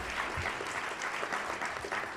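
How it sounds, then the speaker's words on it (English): Audience applause for a guest speaker at a National Press Club luncheon, a steady, dense wash of clapping that holds evenly for about two seconds with no voices over it. "How about a round of applause for our guest speaker today?"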